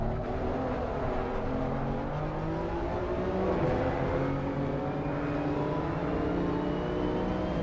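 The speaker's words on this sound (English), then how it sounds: "So I'm gonna be listening to that engine note here." A steady, high-pitched race car engine in the racing game Assetto Corsa Competizione at Spa drones continuously at close range, its pitch holding and shifting slightly with no pauses.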